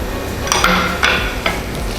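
A utensil stirs sugar into a steamed, mashed mung bean filling for bakpia in a pan, giving a few sharp clinks and knocks over a steady background hiss.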